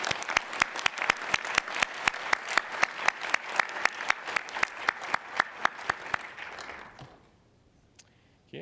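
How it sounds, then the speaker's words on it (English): Steady audience applause at a finance association's business meeting and awards presentation, many hands clapping in a fairly even rhythm with crisp individual claps, then fading abruptly to near silence before a faint tail of sound. "let's give an extra round of applause to our donors for raising their commitment"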